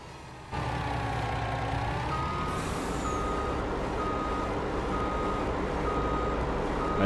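A truck in Landwirtschafts-Simulator 19 reverses with regular backup beeps over a steady low engine drone, close and continuous, with a brief air-brake hiss along the way.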